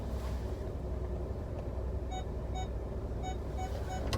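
Steady low road rumble from inside a car driving along, constant and muffled, with a few faint high beeps near the end.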